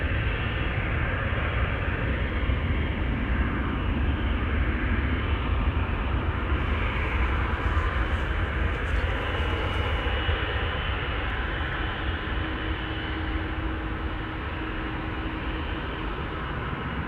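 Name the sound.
Boeing 777-200 airliner to Johannesburg passing Schiphol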